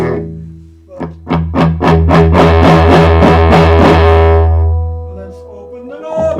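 An electric guitar through a Behringer Vintage Tube Overdrive pedal on its hard distortion setting plays a series of rapid chugged notes, building into a loud sustained distorted chord that rings out and fades.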